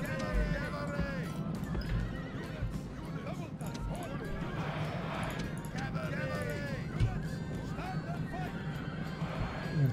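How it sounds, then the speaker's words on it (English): Scythian horse archer mercenaries' horses in a video game, with repeated neighs and whinnies over a steady clatter of galloping hooves and a background murmur of battle noise. "I got one extra unit of mercenary Scythian horse archers"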